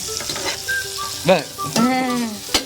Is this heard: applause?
no